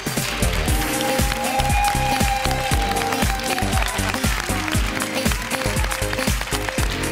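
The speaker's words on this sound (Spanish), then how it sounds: "Un fuerte aplauso para María José Sáez y Jesús Álvarez." A television studio audience claps for two arriving guests, the claps falling in a quick steady rhythm over music, loud and close, with a little crowd noise mixed in.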